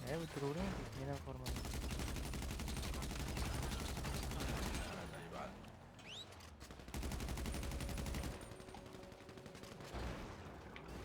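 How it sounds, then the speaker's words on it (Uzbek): Gunfire in Grand Theft Auto V: sustained bursts of rapid automatic shots fill most of the stretch, with brief pauses between volleys, while voices talk over the game. "Кто стреляет?"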